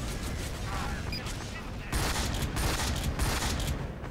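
Rapid, sustained automatic fire from a Team Fortress 2 mini sentry gun shooting at a spy, dense and continuous, getting louder and harsher partway through, with a voice briefly audible.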